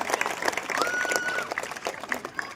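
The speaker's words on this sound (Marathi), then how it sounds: "टाळ्या वाजून सगळ्यांनी अभिनंदन करा" Audience applause at a marathon prize-giving ceremony: a dense, steady patter of many hands clapping together throughout, with a brief whistle-like tone partway through.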